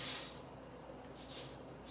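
Bacon laid double thick in a cast iron pan, giving a faint steady hissing sizzle with brief swells of spray, no voices.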